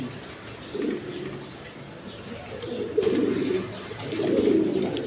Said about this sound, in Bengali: এখানে একটা লাহোরি নর কবুতর আছে